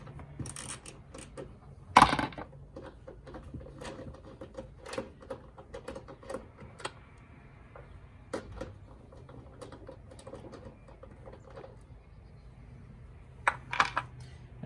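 A 10 mm nut is worked loose with a deep socket deep in the engine bay of a Ford C-Max Energi, giving light metallic ticks, ratchet clicks and small clinks, with one sharp clack near the start and a few more toward the end.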